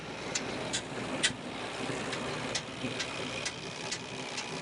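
A tractor engine runs steadily with the PTO engaged, a constant mid-range hum with faint periodic ticks, heard from close by without any talking.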